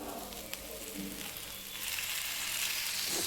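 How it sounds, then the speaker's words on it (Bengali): Chicken Maggi ingredients fry on a low flame in a pan, giving a steady, close sizzle that swells slightly toward the end, with faint stirring. "চলো এটাকে ভালো করে আবার অল্প অল্প আঁচে আমি এটাকে ভেজে নেব"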